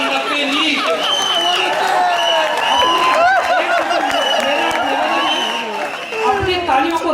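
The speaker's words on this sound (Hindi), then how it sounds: "अपनी तालियों को रोक के रखो।" Audience applause fills a Rajasthani poetry recital, a dense, steady wash of clapping and crowd noise mixed with a voice speaking over it throughout.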